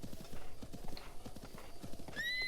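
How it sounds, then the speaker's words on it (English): Galloping horse hooves in Breath of the Wild, a steady rapid clip-clop rhythm up close, with a brief whinny near the end. "Horse!"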